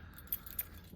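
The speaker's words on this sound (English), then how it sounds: "I've now picked the lock and taken the keys out." Keys jangle faintly as they are drawn out of a lock that has just been picked, giving a couple of soft, light metallic clinks over quiet background noise.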